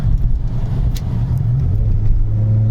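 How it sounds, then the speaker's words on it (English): A car engine running loudly and steadily, its pitch dipping and then rising as the revs change, heard from inside the vehicle. "Let me see if I can shift gears real quick."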